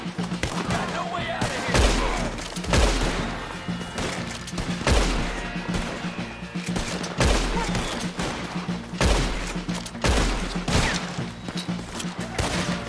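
Repeated heavy booming cannon blasts in Red Dead Redemption 2 at irregular intervals, with gunfire and clatter filling the gaps between explosions.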